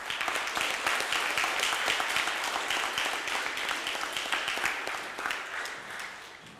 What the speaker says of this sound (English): Please join me one more time in giving a round of applause for all the class award recipients